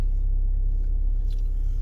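Car rolling along a road on an Irish morning, heading to a tyre shop for wheel balancing; a steady low road rumble and engine drone fill the cabin throughout, with no voices.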